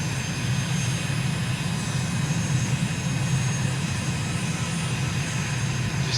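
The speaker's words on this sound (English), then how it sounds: "A bit more power." Aircraft engine in Microsoft Flight Simulator on a recon flight over Colombo, Sri Lanka, a steady, loud droning roar with a low rumble that holds even throughout and has no talk over it.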